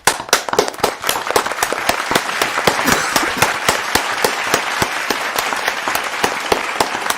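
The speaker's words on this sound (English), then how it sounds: "Let's give a round of applause to the team." Sustained applause from judges at a live gymnastics semifinal session, dense sharp claps steady throughout at moderate loudness with no talking.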